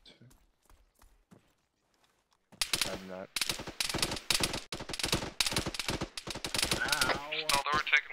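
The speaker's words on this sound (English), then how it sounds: "we're taking more fire from the northwest" Rapid bursts of rifle and machine-gun fire in the Arma 3 video game, quiet at first, then loud, dense volleys, mixed with voices speaking.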